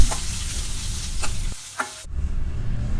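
Finely chopped onions, two medium ones, fry in a pan with steady broadband sizzling and a few stirring scrapes; the sizzle drops briefly near the middle, then resumes strongly.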